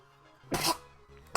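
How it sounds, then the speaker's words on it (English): A person sneezes once, loud and close: a short intake followed by a sharp burst, then a second brief burst right after, in an otherwise quiet room. "I have to sneeze."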